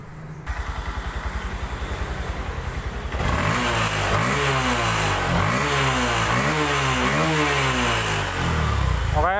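A Honda Verza fuel-injected motorcycle engine, freshly serviced with its ECU reset, idles with a steady putter, then is revved repeatedly in quick rising and falling bursts, loud and close.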